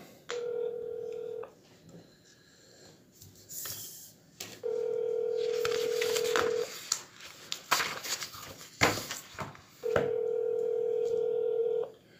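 A phone line's steady dial tone repeats in three long stretches, broken up by a clatter of handling noise and brief dialing sounds. It comes through loud and close, with a voice briefly audible between the tones.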